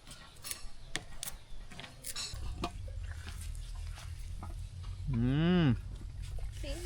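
Cows being fed chapati and bananas: scattered clicks and knocks over a low rumble, then one loud, close moo near the end, with faint voices in the background.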